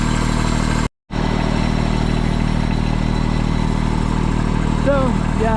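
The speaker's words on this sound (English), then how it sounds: "I'm not supposed to be on the street with a tractor." A tractor engine runs steadily on a residential street during driveway drainage work, a continuous loud mechanical drone with a brief cutout near the start and faint squeaks late on.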